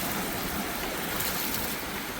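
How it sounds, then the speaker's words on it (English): Water pours into a hole in a bucket of sand as a steady, unbroken rushing wash that stays loud and close from start to finish. "and pour it into the hole."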